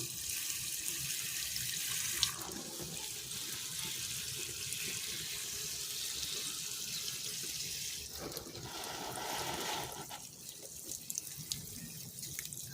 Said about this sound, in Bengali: আমাদের রোজ সকালে ডিউটি হচ্ছে গাছে জল দেওয়া